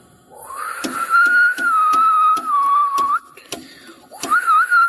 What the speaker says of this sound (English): You go ahead, whistle again.